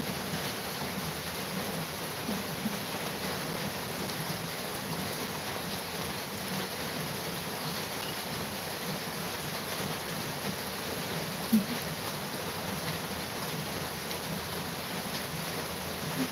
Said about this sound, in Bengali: প্রচুর বৃষ্টি হচ্ছে গো।